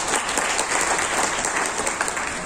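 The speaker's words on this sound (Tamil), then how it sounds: "நல்ல ஒரு கைத்தட்டு கொடுங்க சார்." Dense, sustained applause from an audience at a Lions District 324 N cabinet installation ceremony, loud and close, with many hands clapping continuously.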